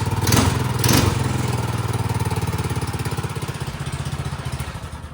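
Small Tillotson engine on a Manco Dingo yard kart running close and loud, a fast steady putter with a couple of sharp blips near the start, then settling into an even rhythmic idle.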